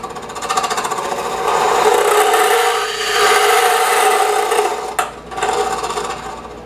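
A gouge on a wood lathe cuts the bottom of a box mounted on a faceplate, giving a continuous rough, chattering scrape that stays close and loud, with a brief dip near the end.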